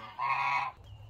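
A single loud honk from a goose on a homestead, close and clear, ending abruptly with quiet yard noise afterward.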